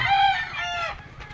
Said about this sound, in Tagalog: Ano yan, may manok.